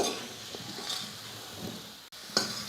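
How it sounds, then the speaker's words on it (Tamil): Sweet potato pieces fry in hot oil with masala, a steady soft sizzle and hiss running throughout at moderate level, with a brief gap near the end before the sizzling resumes. "இந்த சக்கரை வெள்ளைக்கிழங்கு வந்து கொஞ்சம் நல்லா மொறு மொறுப்பாக வரணும் அந்த அளவுக்கு நம்ம வந்து நல்லா வறுத்துக்கணும்"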